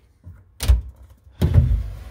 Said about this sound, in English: Drawers are smooth. It'd be smoother if I had 2 hands, but you can see that's all wood.